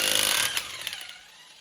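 Impact wrench or power tool whirring loudly as tires come off a 2015 Chevrolet Suburban raised on jack stands, a short spin-down followed by a few metallic clanks fading into quiet.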